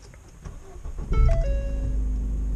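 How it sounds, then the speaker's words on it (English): A Ford Fiesta ST engine cranks via push-button start and catches, rising into a steady low idle, with a soft chime tone as it starts, close and moderately loud. "all you really need is to clutch in and just push on this start button"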